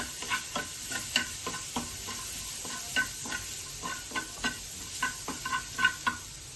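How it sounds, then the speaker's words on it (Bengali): Carrots frying in a pan for a cheesy Maggi noodle dish, heard as a soft sizzle under a steady rhythm of spatula stirs and scrapes, about two per second, no voices. "তো একটুখানি আমি গাজরটা একটু ভাজা ভাজা করে নেবো।"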